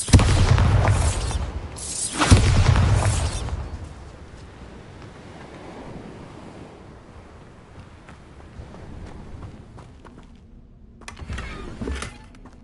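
Bombarda spell explosions in a Harry Potter video game: two heavy booming blasts close together at the start, fading into a long windy rumble, then a sharper burst near the end.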